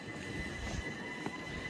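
Train passing at Fishergate, a steady rolling rumble with a faint high whine and an occasional clack of wheels, heard from trackside at moderate distance.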